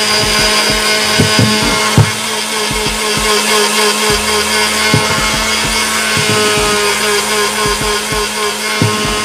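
Kitchen blender grinding coconut with dry spices for rendang, a loud, harsh whirring roar with gritty, rattling texture that runs steadily throughout with occasional knocks, close up and without speech.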